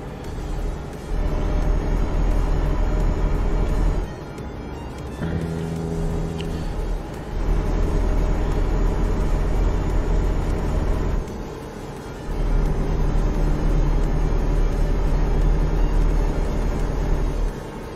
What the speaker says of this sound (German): Weil die Geräusche vom LKW, die passen.